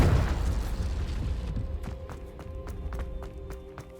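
A Confringo explosion spell from Hogwarts Legacy bursts loudly at the start, then its rumble fades under a scatter of sharp clicks and small impacts.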